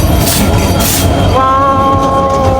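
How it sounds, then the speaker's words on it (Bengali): A train pulls into a station in Chandpur, Bangladesh, with a loud rumbling roll and rattle of the cars and a rising metallic wheel squeal over a steady, close, continuous din. "অবশেষে আমাদের ট্রেন চলে আসছে"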